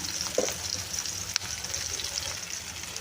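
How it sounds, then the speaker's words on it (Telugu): Onions sizzle and fry in hot oil in a pan for a biryani, a steady close hiss with a few small pops and clinks throughout. "ఈ ఫ్రాన్స్ వేపిన ఆయిల్ కాబట్టి పొంగుతుందండి దీంట్లోకే ఆనియన్స్ కూడా వేసేసుకుంటున్నాను"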